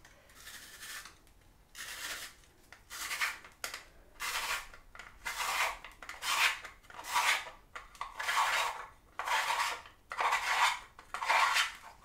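A vegetable spiralizer is cranked in repeated rhythmic strokes, each producing a scraping, rasping grind of about a second, with brief gaps between turns, close and fairly quiet.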